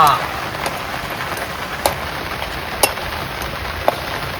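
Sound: heavy monsoon rain

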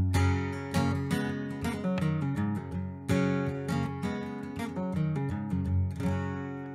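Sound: blues guitar lick in DADGAD tuning

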